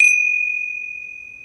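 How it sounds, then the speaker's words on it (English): A single bright metallic strike opens a Hindu puja ritual, leaving one clear pure tone that rings on and slowly fades, heard close and alone. "I'm going to open and close the puja with a gong."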